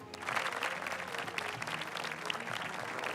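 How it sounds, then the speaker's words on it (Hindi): Studio audience clapping for quiz contestants on a Ramzan television game show, a continuous burst of many hands applauding loudly for about three seconds with no talking. "तालियां होनी चाहिए इन सबके लिए।"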